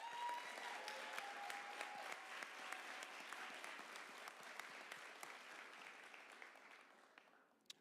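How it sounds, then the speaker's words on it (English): Applause rises from the audience at a graduation ceremony, a steady crowd clapping with distinct individual claps, quiet and distant in level, gradually thinning toward the end. "Go ahead and give them a round of applause."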